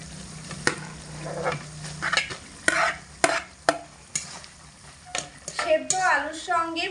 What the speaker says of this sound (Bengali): মশলা খুব ভালো করে এক মিনিট মতো মিশিয়ে নেব হালকা আঁচে রেখে এরকম খুন্তি দিয়ে একটু হালকা হাতে ঘেটে ঘেটে দিতে হবে